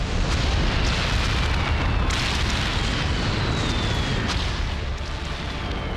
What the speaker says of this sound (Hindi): इजराइल के हमले से ईरान में कई जगह ऐसे ही धमाके हुए।